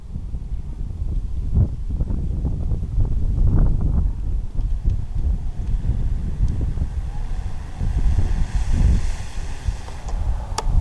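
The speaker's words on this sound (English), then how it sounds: "Wind is not being nice to me right now" Strong gusty wind buffets the microphone at an RC plane flying field before a storm, a loud, continuous low rumble with surging gusts throughout and no voices.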